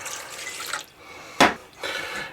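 Ice water pours in two short bursts into a kitchen bowl holding an egg, a splashing trickle, a pause, a sharp clink, then another pour.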